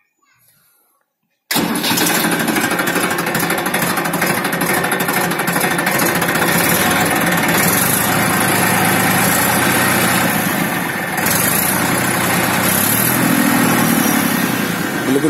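After a moment of near silence, a Massey Ferguson 241 tractor engine with 1,210 hours of use catches and settles into a steady, loud, rumbling idle that runs on without a break.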